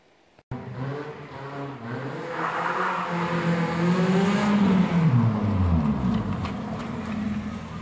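A Toyota Celica Mark 7 engine starts and revs up through a deep, raspy modified exhaust with the butterfly valve removed, rising and falling in pitch as it holds a steady, loud drone.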